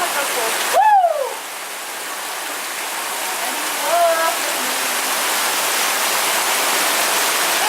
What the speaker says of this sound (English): Look at that hail